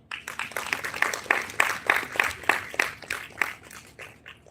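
Small audience at a College of Veterinary Science talk on vulture conservation clapping in welcome, a moderate burst of individual claps with a few sharp near hand claps, steady for several seconds then thinning out.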